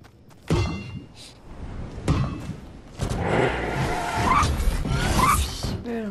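Engine revving and tire skids from a racing game, loud and busy, with thumps and a brief voice underneath.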